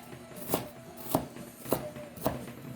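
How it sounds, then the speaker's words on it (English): A kitchen knife chops through half a red onion on a cutting board, four evenly spaced, crisp thunks about half a second apart, close and fairly quiet. "I'm just cutting it, and I'm making sure that my fingers are staying on top of the knife so I don't cut it"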